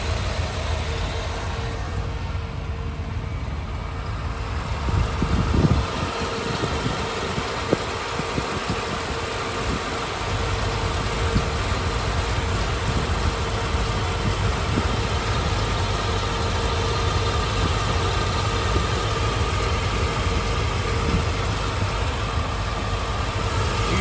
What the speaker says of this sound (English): 340 horse solid lifter V8.